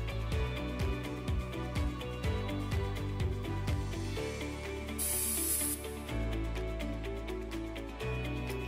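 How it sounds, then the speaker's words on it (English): Spray foundation misted onto a face in one quick burst, a short hiss of about a second heard close up amid a low, busy background. "Then one quick mist of foundation right down the center."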